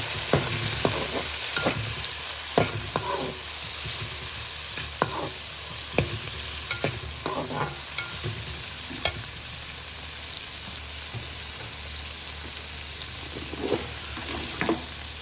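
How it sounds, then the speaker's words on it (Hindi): Chicken feet fry with tomatoes and chillies as they are stirred in, giving a steady close sizzle throughout with repeated scraping and clacking strokes of a spoon against the pan, and no voices. "अब इसमें टमाटर और मिर्ची डाल दें, इसको अच्छी तरह मिक्स कर लें"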